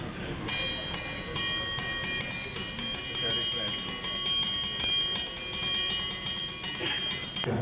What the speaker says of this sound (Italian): Prima dell'elettrificazione le campane in Sardegna si suonavano così.